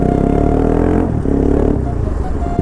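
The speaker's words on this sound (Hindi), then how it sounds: "अभी हम लोगों ने एग्जॉस्ट का DB किलर निकाला हुआ ताकि साउंड बढ़िया सी है" Bajaj Pulsar RS200 motorcycle with the exhaust dB killer removed, idling and blipping close by with a loud, raw, throaty burble and a brief rev dip midway.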